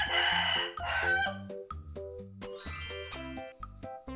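A farm rooster crows loudly, a drawn-out call rising at the start, set over bright chiming bell tones and steady musical notes that run throughout.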